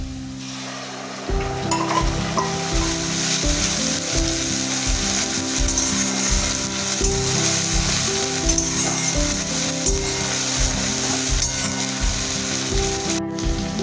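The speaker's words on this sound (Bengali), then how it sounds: "এবার আমি বেটে রাখা মশলাটা দিয়ে দিচ্ছি" Ground spice paste hitting fried onions in a hot pan, a loud, sustained close sizzle with rhythmic scraping and stirring strokes throughout, no voices.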